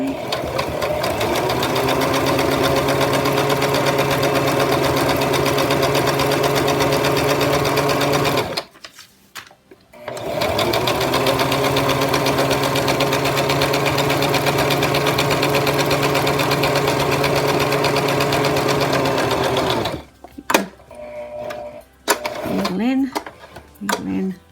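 A sewing machine stitches around a cloth art doll in two long, loud, close bursts of steady motor hum, separated by a short stop, with brief handling noise and a voice near the end.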